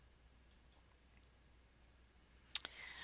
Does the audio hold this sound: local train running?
no